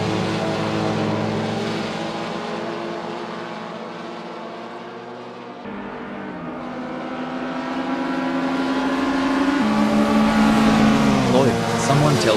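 Classic touring car engines roar continuously at Silverstone 1975 in Assetto Corsa, a loud close-up drone of revving motors that dips briefly, then climbs in pitch as the cars push on.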